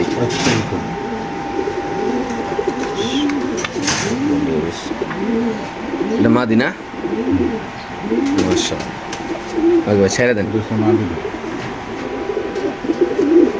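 Pigeons coo in low, rolling bursts throughout, partly beneath a voice talking, with occasional wing flutters and handling noise close by.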